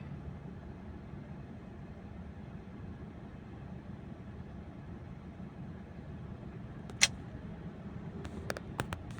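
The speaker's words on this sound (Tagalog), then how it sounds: "ang traffic dito sa may Pioneer grabe rush hour naman ay grabe" Rush hour traffic jam on a road near Pioneer: a low, steady idling rumble of stopped vehicles, with a few sharp clicks and a brief high beep near the end, and no talk.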